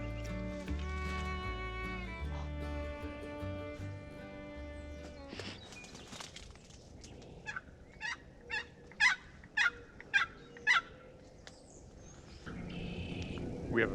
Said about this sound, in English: We have a very interested turkey on the opposite side of the river